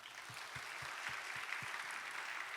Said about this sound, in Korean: 박수 한번 해주실까요?